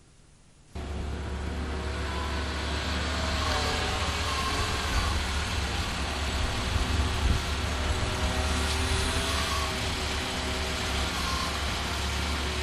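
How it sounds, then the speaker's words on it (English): Linde 39X hydrostatic forklift climbing a step at minimal engine speed, a low steady engine hum that starts abruptly and holds evenly throughout, moderately loud with no voices. "You heard how quiet the engine was as the truck climbed the step at minimal engine speeds."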